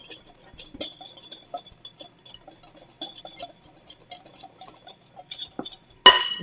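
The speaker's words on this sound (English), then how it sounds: "I'm gonna whisk this up." A whisk clinks and scrapes inside a bowl holding pepper and salt, producing light, irregular metallic ticks and taps up close, then a brief louder clatter at the end, with no talk.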